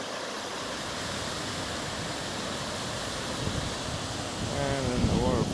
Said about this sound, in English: And then the waterfall is down here.